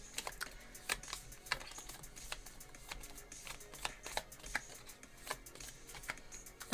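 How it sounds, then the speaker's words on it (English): Tarot cards are shuffled in a quiet room, a faint run of quick, crisp riffling snaps and taps that comes in uneven bursts. "Give this a few good shuffles before we pick your answer."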